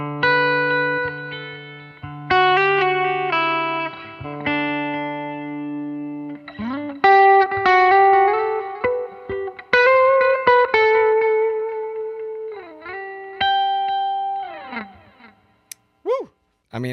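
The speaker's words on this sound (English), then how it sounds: "Let's engage the spring reverb again." Electric guitar through a spring reverb pedal on a Nashville-style pedalboard, playing chords and bent notes with a washy, lingering tail, ending in a few quick pitch swoops.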